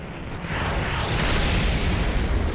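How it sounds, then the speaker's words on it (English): Aircraft-dropped bomb detonating in War Thunder ground strike combat, a single sustained broadband roar that swells and rumbles loudly for a couple of seconds without talk. "drop a bomb. Boom!"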